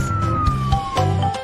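Cartoon ambulance siren from a children's animation: a steady high wailing tone running the whole time over a light, bouncy music bed, fairly loud and close.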